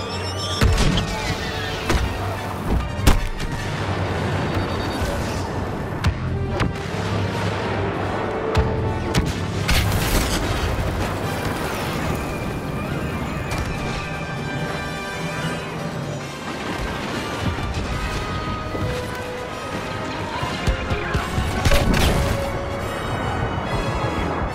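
Blaster fire rains on an exposed walker in Star Wars Battlefront, with dense, continuous battle noise, sharp repeated shots and heavy booms layered over a constant roar.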